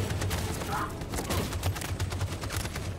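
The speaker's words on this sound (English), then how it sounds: "The machine gun is taking down everything that moves." Machine gun fire in Detroit: Become Human rattles continuously at moderate loudness, a rapid run of shots layered over a low rumbling game soundtrack.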